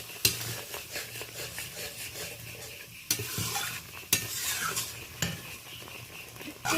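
Spice paste with a little water being stirred in a pan for a fish curry: scraping strokes of a spoon against metal with a soft sizzle beneath, punctuated by a few sharper clinks, fairly quiet and close.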